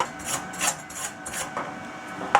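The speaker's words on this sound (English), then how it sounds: "we're just going to chip that slag off the top of that weld" Slag is chipped off the top of a fresh weld. Soft scraping strokes repeat at a roughly even rhythm, each one a brief rasp, fairly quiet and close, with a sharper knock at the end.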